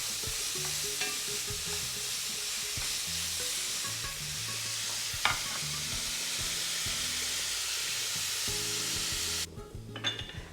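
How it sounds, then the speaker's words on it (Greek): Onion sautéing over low heat in a pan, a steady close sizzle and frying hiss with scattered crackles running throughout, a brief stirring knock near the middle, and the sizzle thinning out at the very end. "Σοτάρω μέχρι το κρεμμύδι να γυαλίσει και να δώσει λίγο χρώμα."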